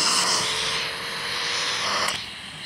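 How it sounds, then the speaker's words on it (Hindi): A car engine idles and runs steadily, with a broad continuous roar and hiss, loud and close, and no talking. "इंजन नहीं ऑफ कर रहा हूँ मैं"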